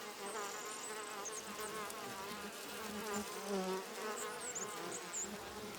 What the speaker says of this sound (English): A colony of Japanese honeybees has taken over the garden hives.